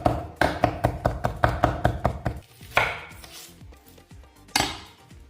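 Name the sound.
chopping parsley with a knife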